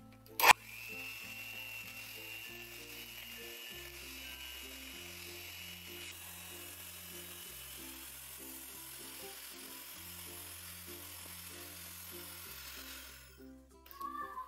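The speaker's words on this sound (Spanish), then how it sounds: "Vamos a poner la mitad y vamos a empezar a batir." A mixture with orange juice is whisked, producing a continuous whirring motor buzz that steps between pitches as the mixer works, fairly quiet, with a brief sharp knock near the start.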